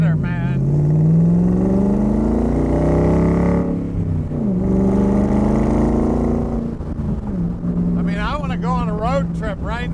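A 1965 Shelby Cobra Factory Five roadster's V8 rumbles loudly and close by, its pitch rising and falling through several revs and accelerations, with talk in the final seconds.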